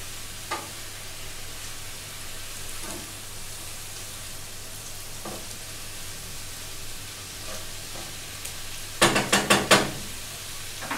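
Pasta and sauce stirred in a hot pan: a soft, continuous sizzle with occasional faint scrapes, then a quick cluster of sharp clatters from the utensil near the end.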